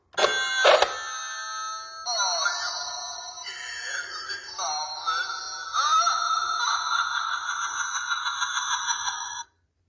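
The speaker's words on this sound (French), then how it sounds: "il y a une petite sonnette avec une araignée qui sort" A Halloween spider doorbell decoration chimes a bright, tinkling electronic melody with bell-like tones for several seconds, then stops abruptly; no one speaks.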